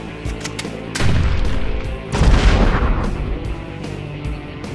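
Gunfire from a sci-fi action scene: heavy, booming shots and a rolling burst of fire, loud and close, with no voices over them.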